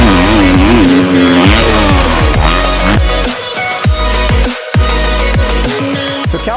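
A 2018 Kawasaki KX250F dirt bike rips around the Cahuilla Creek MX motocross track in Southern California, its loud four-stroke engine revving up and down through rapid gear changes, with a brief throttle chop near the end.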